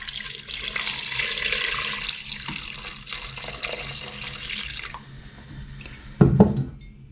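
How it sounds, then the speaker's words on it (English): Hot water pours steadily over seasoned squirrel meat in a pot, a continuous splashing stream that fades toward the end before a brief clunk of cookware. "Now we're just going to take some hot water and pour in on top of that."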